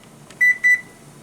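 A kitchen timer gives two short, bright electronic beeps in quick succession while being set, close and clear over a quiet room.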